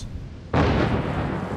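Naval gunfire from warships in the game World of Warships: a loud, sudden broadband blast with a rumbling tail that sustains for about a second, following a quieter stretch of background game noise.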